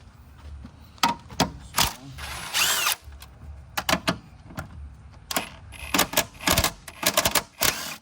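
Short bursts from a power tool loosening and backing out bolts on the engine mount of a 2007-2012 Nissan Altima, several quick whirring spurts separated by pauses, close and loud in a garage setting.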